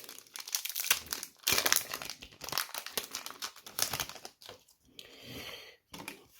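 Crinkly foil wrapper of a Pokémon card booster pack being torn and opened, close bursts of crackling and crumpling in irregular clusters with short pauses.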